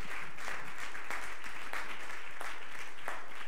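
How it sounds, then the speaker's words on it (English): Church congregation clapping in praise during a worship service, a soft, fairly distant wash of hand claps in loose waves, without talking over it. "Let's give the Lord a hand clap of praise."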